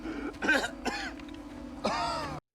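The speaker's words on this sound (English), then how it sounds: "He's coughing up blood." A man coughing in a TV drama scene, several harsh throaty coughs and strained clearing in separate bursts with short pauses between them, close and fairly loud.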